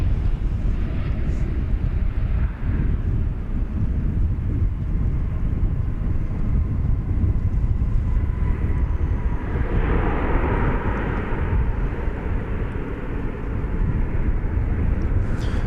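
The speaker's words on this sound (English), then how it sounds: "That Alaska Airlines flight landing from Seattle, a Max 9 was that." An Alaska Airlines Boeing 737 Max 9 lands after a flight from Seattle, a loud sustained jet roar with rumbling and wind buffeting throughout.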